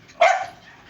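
A single sharp bark from a pet guard dog kept watching over a car, close and loud, tailing off quickly into quiet.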